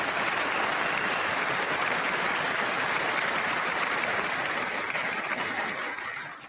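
Sustained loud applause fills a legislative chamber during a State of the Union address, a dense wash of clapping that holds steady for several seconds before starting to thin at the end.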